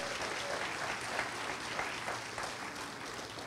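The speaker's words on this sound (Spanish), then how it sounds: "de un aplauso al Señor" A church congregation claps for the Lord in a steady, even burst of applause. The clapping stays dense throughout and is heard at a moderate distance without a break.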